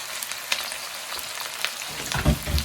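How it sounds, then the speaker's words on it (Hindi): Onion sizzles in hot oil with cinnamon sticks and black cardamom, a close, steady frying crackle with scattered pops, swelling into louder stirring thumps toward the end. "2 पीस दालचीनी के और 2 अदद काली इलायची ये ऐड करेंगे, और साथ ही ये ऑनियन हम इसके अंदर डाल देंगे।"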